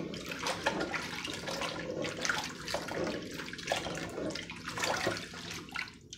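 Strained carrots are rinsed under running water in a kitchen sink, a steady close rush of water with splashing and gurgling for several seconds, no talk.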